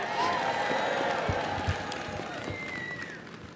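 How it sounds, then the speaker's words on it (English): A large crowd applauds and cheers for public employees at a New York City mayoral inauguration, with scattered whoops and a whistle-like tone over a broad, steady wash of clapping. "Give them a big applause."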